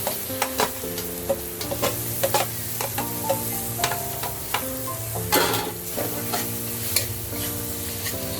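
Tomatoes frying in masala in a pan for a Bengali chicken kosha, a steady sizzle with frequent clinks and scrapes of a spoon stirring against the pan, close and busy.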